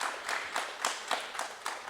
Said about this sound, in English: you can confidently applaud better and much louder